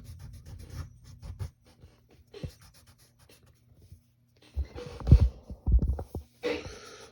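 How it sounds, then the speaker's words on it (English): A pencil eraser rubs over paper to remove construction lines from a drawing of Lightning McQueen, in short scratchy bursts with pauses, growing stronger and busier near the end, with no talking. "maybe we could go ahead and erase some of our construction lines"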